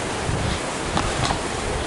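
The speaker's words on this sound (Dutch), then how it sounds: "Er is ik weet niet hoeveel wind." Steady outdoor wind gusting against the microphone, a broad continuous rush with a few brief swells, no voices, along a path in Morocco.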